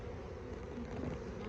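Honeybees buzz steadily at an open hive during winter preparation, a dense, continuous close-up drone with no pauses or talk.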